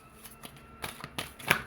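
Playing cards are shuffled in a few quick riffling bursts, close and crisp, with a sharp snap at the end; no one speaks.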